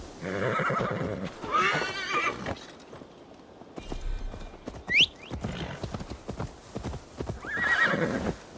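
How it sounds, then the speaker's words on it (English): Video game horse hooves in Assassin's Creed Valhalla clip-clop at a steady gallop, a horse whinnies sharply partway through, and the hoofbeats resume briskly, with a second shrill neigh near the end. "Now to deliver Magni his horse."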